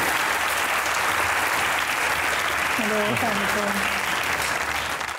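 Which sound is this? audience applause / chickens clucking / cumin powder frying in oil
audience applause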